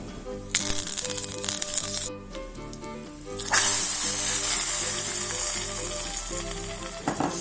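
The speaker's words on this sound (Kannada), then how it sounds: "ಒಗ್ಗರಣೆಗೆ ಎಣ್ಣೆ ಸಾಸಿವೆ ಕೆಂಪು ಮೆಣಸು ಹಾಗೆ ಕರಿಬೇವು ಹಾಕಿದಂತಹ ಒಗ್ಗರಣೆ ಕೊಟ್ಟರಾಯಿತು" Oil tempering with mustard seeds, dried red chili and curry leaves for ridge gourd moong dal sizzles loudly and steadily, with a brief break before a hotter, louder burst of frying; no talk.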